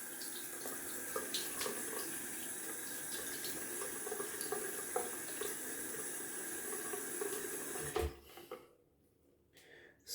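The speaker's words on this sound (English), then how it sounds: "Adding some cold water to the face." Water runs steadily from a tap for about eight seconds, a broad hiss, then cuts off, leaving near silence with a few faint clicks.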